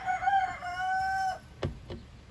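A rooster crows once nearby, a drawn-out, strained cock-a-doodle-doo, followed by two short clucks in a quiet indoor space.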